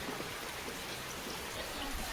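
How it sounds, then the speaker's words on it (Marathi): Heavy rain falls outside in a constant, dense hiss of drops that holds an even level throughout with no voices. "सकाळपासून लय जोरात पाऊस असा"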